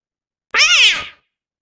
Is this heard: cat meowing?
yes